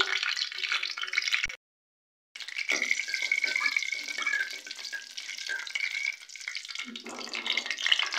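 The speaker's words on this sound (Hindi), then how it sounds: "ज़ीरे को जो है हम एक मिनट के लिए ऑयल में फ्राई कर लेंगे" Whole cumin seeds fry in hot oil for a chicken bhuna, giving a steady bright sizzle and crackle that runs almost throughout, broken by one brief silent gap, with a few light stirring sounds.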